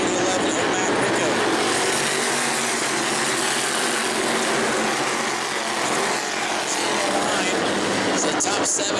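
Modified race cars roar around the New Smyrna track, a dense continuous wash of engine noise that stays loud throughout, with a race announcer talking over it.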